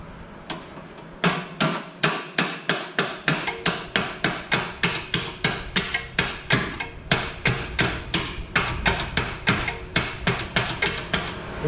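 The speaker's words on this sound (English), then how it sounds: "Maybe I can hit it with the hammer a little bit." Steady, evenly spaced hammer blows ring out on a vehicle axle being driven out, loud and close, about two strikes per second after a short quiet start.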